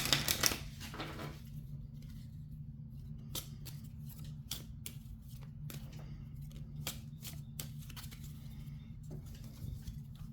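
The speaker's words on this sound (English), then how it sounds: "Gonna give these a really good shuffle here." Crisp, repeated snapping riffles of a Marvel Villainous card deck being shuffled, close up, over a steady low hum.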